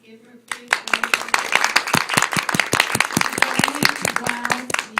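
An audience at a reading and book signing breaking into sustained applause, dense clapping that starts abruptly and carries on steadily, loud and close.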